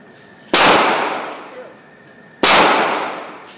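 Two loud, sharp reports from a Pietta PPS50 .22 rifle fed from a 50-round drum, each ringing out and decaying over about a second and a half, fired close.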